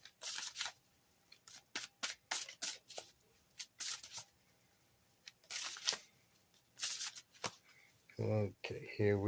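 Oracle cards from the Seasons of the Witch Ostara deck are riffled and shuffled in a string of crisp, papery bursts with short pauses between, close and clear, and a voice comes in near the end.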